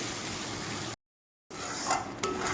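Spiny gourd seeds frying with onion in a pan, a steady hissing sizzle with clinks of a utensil, broken by a short gap of silence midway.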